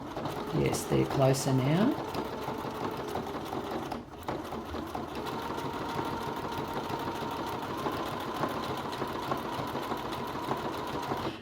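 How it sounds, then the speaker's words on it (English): A sewing machine stitches a Paw Patrol applique around its edge onto a T-shirt, a steady, fast mechanical whir running for most of the stretch after a brief spoken remark and some handling sounds. "Now I'm going to be sewing all the way around the edge"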